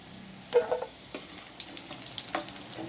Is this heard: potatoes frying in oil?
yes